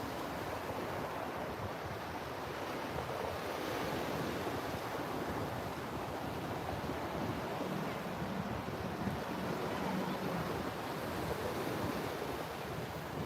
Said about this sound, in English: aware of the crashing waves in front of us.